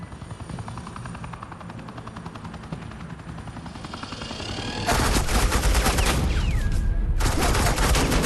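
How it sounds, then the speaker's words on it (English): Suppressing gunfire in Batman: The Enemy Within: a low helicopter-like drone builds for several seconds, then dense, loud automatic bursts erupt and keep roaring before cutting off abruptly, with no voices. "Suppressing fire."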